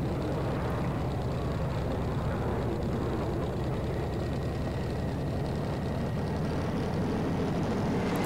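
An A-1 Skyraider propeller plane in Gunship III drones steadily just after a formation takeoff, a constant loud engine roar with a low rumbling hum and no speech over it.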